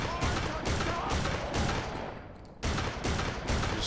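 A semi-auto MC-25 shotgun fires rapidly in Fallout 4, with loud, booming blasts in a quick, dense rhythm, briefly pausing before resuming.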